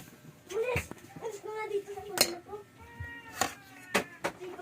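A cat meows several times close by, its voiced cries rising and falling, with clattering taps of dishes and utensils and brief speech around them.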